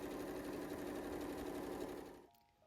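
A sewing machine stitches fox-tail fur fabric cases for a cosplay tail, running as a steady close whirring drone that stops near the end.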